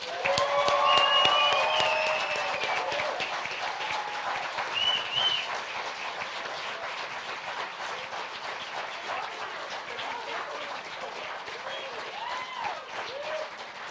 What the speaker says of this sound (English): put your hands together and applaud for Bill Flaherty.